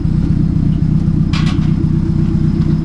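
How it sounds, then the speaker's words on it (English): A Nissan 240SX exhaust rumbles steadily up close, a loud low-pitched idle with a regular pulsing throb and a brief hiss partway through. "Like some exhaust action."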